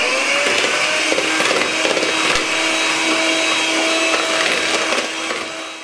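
Electric hand mixer whirring steadily while beating eggs with vanilla sugar into a pale foamy batter for baking, a constant close motor drone with a slight drop toward the end.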